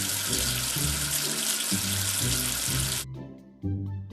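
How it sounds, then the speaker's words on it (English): Cartoon game water gushes like a running tap to rinse soap off a letter, a loud steady splashing rush that cuts off abruptly near the end over a light bouncy background tune. "Wash away the soap with water."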